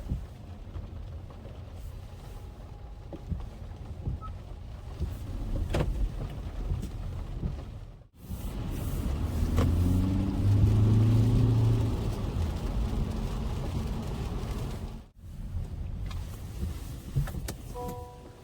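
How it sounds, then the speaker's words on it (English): A 2021 Honda Insight Touring hybrid driving, with a low, steady road and cabin hum and some wind noise that swells and fades, broken by two brief near-silent gaps. "let's start driving the car and let's see how it goes."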